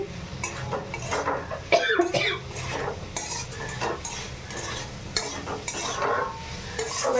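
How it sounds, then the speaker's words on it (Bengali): Soybeans stir-fried with spices in a pan for a vegetarian dish, with repeated scraping spatula strokes and utensil clinks over a crackling sizzle, close up and without speech. "এবারে সয়াবিন সয়াবিনগুলো দিয়ে দিচ্ছি দিয়ে একটু কষে নিচ্ছি"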